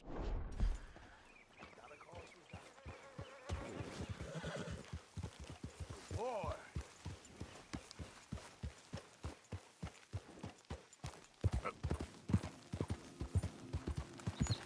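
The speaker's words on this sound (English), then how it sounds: "Esse cavalo é um pouco mais rápido" In Red Dead Redemption 2, a horse walks with steady, close clip-clop hoofbeats for the whole stretch, and a whinny is heard early on.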